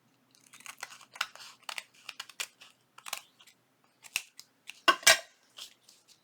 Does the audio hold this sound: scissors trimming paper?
yes